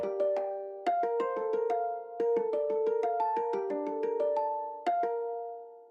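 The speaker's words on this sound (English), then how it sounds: "I added this bell sound. Again, this is from Signal. Let me play it." A synth bell patch from the Signal plugin plays a slow melodic line of bright struck tones, each note ringing and decaying over sustained layered pitches, clean and alone with no talk.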